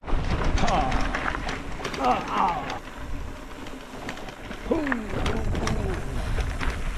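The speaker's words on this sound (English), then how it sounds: "So many birds this morning." Morning birdsong at a campsite in New Mexico: several birds chirp and call in scattered bursts, with a dove-like cooing note midway, over a steady outdoor background and occasional faint rustling.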